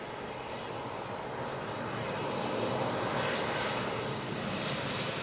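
Aircraft engines at Manchester Airport, a steady loud roar of a jet airliner on the ground that holds constant and swells slightly, with no talking.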